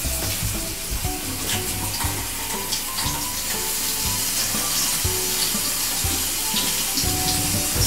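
Running water pours steadily through a home bath while a small dog is washed, a continuous splashing hiss with low thumps and shifting flow, no talking.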